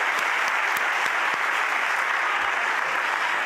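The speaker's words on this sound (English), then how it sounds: "Please give a round of applause for the Montgomery Elementary Orchestra that just performed." An audience at a county address gives steady, dense applause for an elementary school orchestra that just performed, even and sustained throughout with no voices over it.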